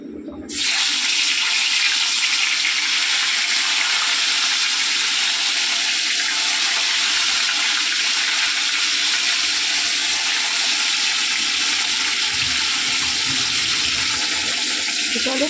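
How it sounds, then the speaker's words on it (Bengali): Fish sizzle as they fry in hot oil in a wok, a loud, continuous rushing hiss that holds steady for the whole stretch, close by and with no talking. "কড়াতে আবারও তেল দিয়ে দিয়েছি, আর তেল গরম হয়ে গেছে। এবারে একে একে এই মাছ ভেজে নেব।"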